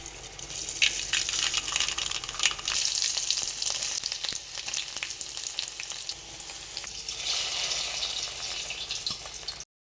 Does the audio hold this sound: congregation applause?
no